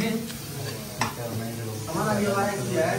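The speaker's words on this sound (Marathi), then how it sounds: "फोडणी एकदम मस्त झाली ना वास आता सुटलाय" Spice tempering sizzles in a pan while chicken is being cooked outdoors in Keylong, a close, continuous frying hiss with a brief stirring clatter as people talk over it.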